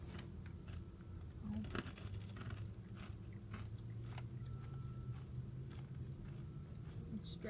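Close crunching and chewing of a butter-flavored Japanese nut snack, with bites and crisp crackles scattered through the clip over a steady low background hum.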